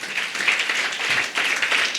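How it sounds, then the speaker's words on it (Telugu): A church congregation at a Sunday service claps together in a loud, close burst of applause that briefly dips in the middle and then carries on. "క్లాప్స్ కొట్టండి"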